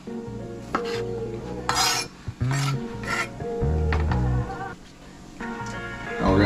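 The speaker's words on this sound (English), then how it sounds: "so I'm gonna cut them into quarters." Knife slicing grape tomatoes into quarters on a cutting board, a series of sharp clicks and scraping taps at uneven intervals, close and fairly loud, with small clanks of cutlery and dishes between cuts.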